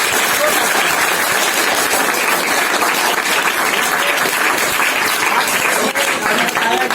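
Sustained, loud audience applause greets a Teacher's Day speech, with dense clapping filling about seven seconds without pause and a murmur of voices beneath it.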